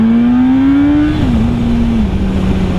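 A Yamaha YZF-R1 RN19 sport motorcycle pulls away in first gear. Its close, loud engine drone climbs, then dips and settles, mixed with heavy wind rush.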